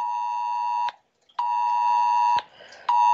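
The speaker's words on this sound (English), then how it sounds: "My phone is sending out an Amber Alert." A phone's emergency Amber Alert tone sounds as loud, steady harmonic beeping in three long bursts with short gaps between them, close and alone with no talk.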